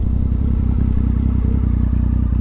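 A Triumph Speed Triple 1050 motorcycle with Brembo brakes slows from 50 km/h. Its engine gives a loud, close, steady throb with a clattery edge and little change in pitch.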